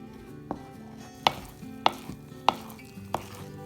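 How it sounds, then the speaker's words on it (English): Thick honey banana bread batter being stirred in a bowl, with a few sharp knocks of the utensil against the bowl's side over a soft scraping bed, close and alone. "We're just gonna stir it until everything's wet"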